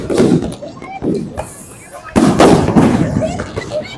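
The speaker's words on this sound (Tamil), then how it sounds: "சவுண்ட் வைக்க போறோம், பெரிய வெடி வைக்க போறோம்." A big firecracker goes off with loud sharp bangs and crackling bursts, close by, with people talking around the blasts.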